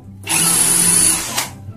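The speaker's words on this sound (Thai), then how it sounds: "เราใช้เป็นโหมดเจาะสว่านธรรมดานะครับ ปั่นเข้าไปให้มันตรงๆ" Power drill running in normal drilling (non-hammer) mode while mounting a shelf, a steady high whine lasting about a second and winding down, close and loud with no talking.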